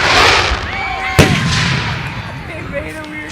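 Fourth of July fireworks explode with a sharp loud bang and crackling bursts, close by, while people talk and react over the noise.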